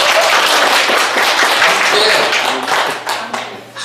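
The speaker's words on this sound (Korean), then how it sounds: "박수 한번 주세요." A burst of loud applause from a crowd, dense clapping that stays strong for a few seconds before thinning out.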